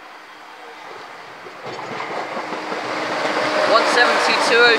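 A Class 170 diesel unit and a Class 90 electric locomotive pull into Stowmarket station, their rumble and rail clatter growing louder as they approach, with squealing brakes near the end.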